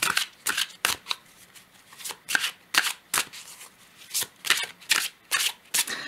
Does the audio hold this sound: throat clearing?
no